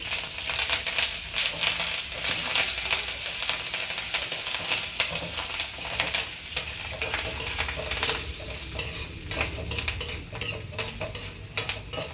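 A festival tempering of mustard seeds, cumin, salted chillies, fenugreek chillies and curry leaves crackling and sizzling in hot oil, with a spoon scraping and stirring the pan throughout.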